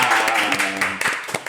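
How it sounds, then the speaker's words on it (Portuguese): Applause for a literature teacher arriving as a guest, a dense patter of clapping that fills the short span, with voices mixed in underneath. "Uma salva de palmas para"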